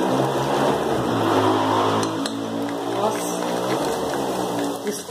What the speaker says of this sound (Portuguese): aí pra cima e pra baixo, andando, fazendo esses barulhos de moto e carro